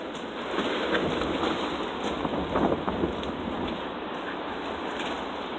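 Strong storm wind gusting in Mineola, a steady broad roar of buffeting with brief stronger surges, loud and continuous with no talking.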